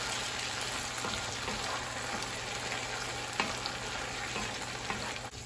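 Salsa ranchera with chorizo, chicharrón and nopales sizzles and crackles steadily in a pan, a close, continuous frying hiss with light stirring clicks and no voices.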